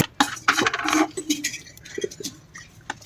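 White mustard seeds are ground on a stone shil slab for a village-style fruit mix: close, gritty scraping and clicking strokes, busiest early on, then sparser taps and knocks.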